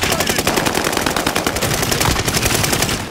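Sustained automatic gunfire in the video game Call of Duty: Modern Warfare, a loud, dense rattle of rapid shots and battle noise filling the whole stretch without a break.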